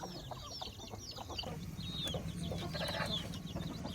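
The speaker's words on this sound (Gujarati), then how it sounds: "તો તો બધા કુકડા અંદર આવી ગયા, કરી નાખું દરવાજો બંધ" Chickens cluck and chatter in a busy flock as they are shut into their coop, short calls overlapping steadily over a low background rumble.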